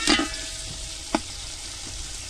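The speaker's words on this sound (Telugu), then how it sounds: "కొంచెం లైట్గా వేగనిద్దాం." Ginger garlic paste and mint frying in a pan for country chicken curry, a constant sizzle broken by a few sharp clinks of a spoon against the pan.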